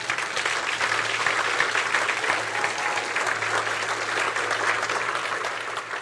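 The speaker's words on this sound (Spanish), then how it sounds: "Denle un aplauso al Señor" A church congregation applauds during a Spanish-language worship service, producing steady, full clapping from many hands that holds evenly from start to finish, with no voices rising above it.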